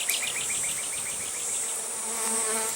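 A close, continuous honey bee buzz with a steady high whine during an alcohol wash for Varroa mites, with a faint rhythmic chirping layered over the drone.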